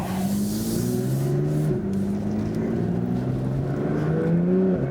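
Porsche 991.2 911 Carrera T fitted with APR GTS turbos accelerating, heard from inside as a continuous loud engine drone with pitch climbing through a gear, a brief dip at a shift, then rising again.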